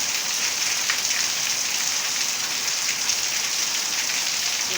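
Steady, dense rain falling on a surface, a continuous hiss with no breaks and no voices.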